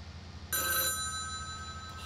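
A telephone rings with a bright electronic trill in the Farming Simulator 19 video game. It sounds one clear burst of ringing, then a lingering tonal tail over a low steady background hum.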